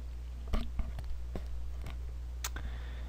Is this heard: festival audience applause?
no